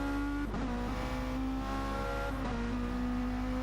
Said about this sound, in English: just coming out of the pits now is Cyberstrike